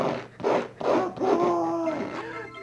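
A Sheltie dog's paws smack and rub wet paint on a canvas in quick, uneven bursts of close scuffing and slapping, with a faint whine or squeak partway through.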